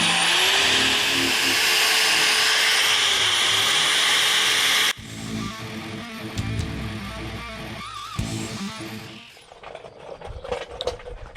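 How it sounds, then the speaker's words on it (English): A worn wire wheel on a power tool scrubs around rivets on a 1962 Mirrorcraft 13-foot aluminum fishing boat, a loud steady grinding whir for about five seconds, then quieter intermittent scraping and rattling bursts. "I don't have much of a wire wheel left, but there's some there."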